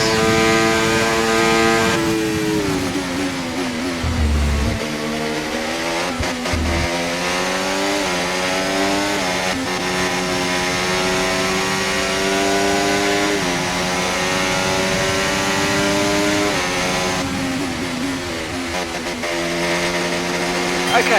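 A Formula 1 car's engine in the F1 24 game, driving a Mercedes at the Spanish Grand Prix, screams steadily at high revs, dipping and climbing through gear changes for a long, continuous stretch with radio talk faintly underneath.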